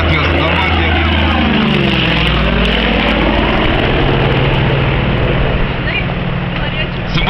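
Low aircraft flying overhead to mark a street opening, a loud, steady engine roar lasting throughout, with crowd talk underneath.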